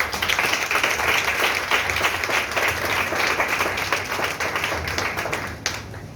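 A church congregation applauding for Jesus, with sustained, dense clapping that fills the room at steady loudness for several seconds before easing slightly at the end.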